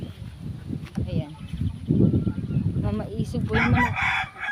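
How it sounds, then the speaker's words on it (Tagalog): A rooster crows in a quiet rural area, rising and falling over a few seconds while people talk nearby throughout. "Mamaisog po yung manok."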